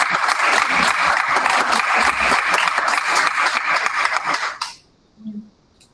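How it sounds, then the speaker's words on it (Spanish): Audience applause for a panel at a conference session on waste-management technologies and the circular economy, a dense sustained clapping from a room full of people that runs loud for about four and a half seconds, then cuts off into near silence. "podemos cerrar con un grande aplauso para toda la mesa"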